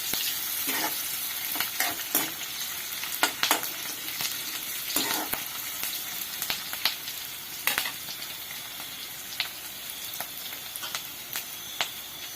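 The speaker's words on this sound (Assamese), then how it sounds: "এতিয়া ইয়াত পিঁয়াজ ডোখৰ দি ল'লোঁ। দি লোৱাৰ পিছত মই ভালকৈ ভাজি লওঁ।" Chopped onions frying and being stirred in a pan while preparing a festival dish for Ganesh Chaturthi, with steady close sizzling and repeated scraping, clattering stirs throughout and no voices.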